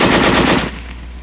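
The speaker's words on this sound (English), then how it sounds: "Weapons giving automatic fire will fire continuously as long as pressure is applied to the trigger" Automatic weapon firing a continuous burst of rapid shots at close range, loud and alone, the rattle stopping abruptly after about half a second and leaving a fading echo.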